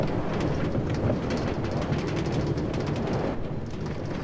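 Minecart riding along rails in Minecraft, a steady rattling, rumbling roll with faint clacks, continuous and moderately loud throughout.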